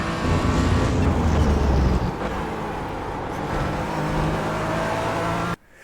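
A Porsche 718 in iRacing at Circuit of the Americas pulls hard under throttle on corner exit, its engine note loud and steady with a shift or dip midway, then cuts off abruptly at the end.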